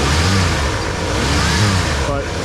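A junkyard 1987 Ford Bronco's engine runs on fresh fuel, droning steadily with a couple of swelling revs, loud and close, while a voice talks over it.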